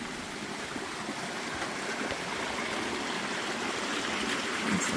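A stream flows near a trail bridge along a hiking route, giving a steady, moderately loud rushing wash of water that stays constant throughout with no talk.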